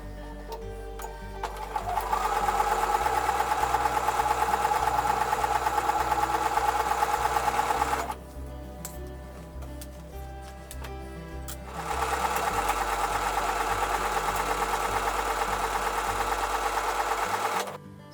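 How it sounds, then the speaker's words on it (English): A sewing machine sews pieces for a triangles-and-stripes quilt block in two long, steady runs of rapid stitching with a brief quiet pause between them. "Now I'm ready to take these over to the sewing machine."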